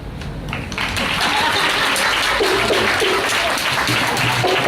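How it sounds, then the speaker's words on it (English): A school audience applauds after a recited poem, steady dense clapping that swells after a quieter first second and stays loud and continuous, with a few faint voices mixed in. "Thank you for your applause."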